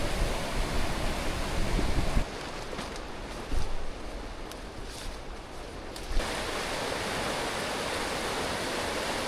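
A backcountry river rushing along, a loud continuous broadband roar of water close by, briefly shifting in level as the listener moves, with no voices.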